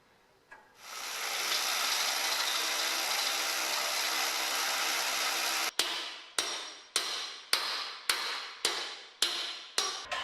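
Workshop lift post being anchored: a long steady drilling whine into the concrete floor for several seconds, then about nine sharp rhythmic hammer taps, close and clear with no talk.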